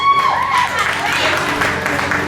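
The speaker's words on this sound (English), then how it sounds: "Give a round of applause." An audience at the 2023 Lee County Fair show in Iowa breaks into applause, a busy patter of many hands clapping close by while a voice speaks over the start.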